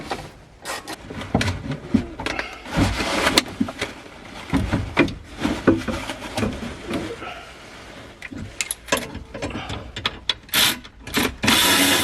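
A ratchet works on dash bolts inside a crashed Lamborghini Huracan, irregular clicking and rubbing bursts with scraping and knocking of trim parts, close and uneven.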